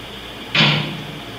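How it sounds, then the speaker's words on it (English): A door in the GoldenEye 007 Nintendo 64 game shuts with a single short, loud thud over a steady low background hum, with no one talking. "I want to wait till that door closes out there."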